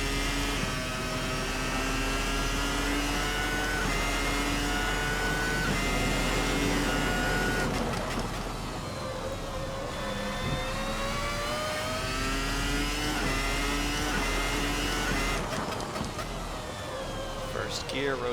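A Formula 2000 V10 race car in a racing sim, its engine revving and accelerating through the gears with rising, rasping pitch sweeps and brief gearshift breaks, heard under steady talking.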